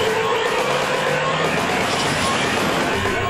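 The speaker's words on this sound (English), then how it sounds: "it's really amazing how fast these super race trucks can speed up" Super race trucks at a Truck Grand Prix roar past on the circuit, a loud continuous engine and road rush that holds steady and fills the short span, heard from trackside without speech.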